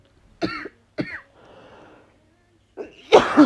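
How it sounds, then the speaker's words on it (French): A few sharp coughs, then a breathy exhale, followed by another harsh cough and throat noise, close to the listener. "Alors, désolée, je tousse un peu."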